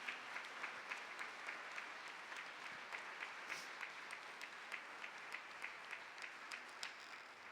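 A church congregation at an evangelical service in Mexico applauds in a faint, even, sustained wash of many hands, with a regular clapping beat running steadily through it.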